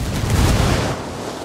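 Grenade blast in the shooter game Ghost Recon Wildlands, a loud broad boom with rumbling low end that decays over about a second into noisy wash.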